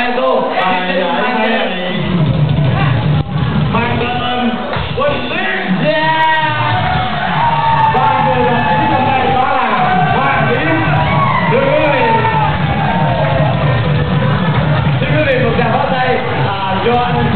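Audience at a Vietnamese karaoke contest in Sacramento cheering, whooping and clapping for a second-prize winner, a loud continuous crowd roar with shouts rising throughout and voices mixed in.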